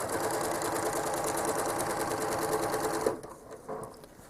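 A home sewing machine runs in a rapid, even rattle while quilting quarter circles along a ruler, then stops abruptly after about three seconds, leaving a few soft handling clicks.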